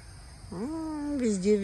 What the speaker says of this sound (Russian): Квакуша у нас начинает петь.